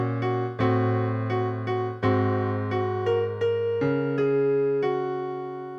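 Solo piano playing a section of the solo from a song, clear sustained chords and single notes struck in an unhurried rhythm, close and clean, the last chord ringing out with no talking.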